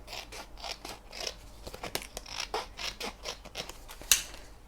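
Scissors snip repeatedly through scrapbooking paper scraps, a close series of crisp cuts and rustles, one sharper snip near the end; no talking.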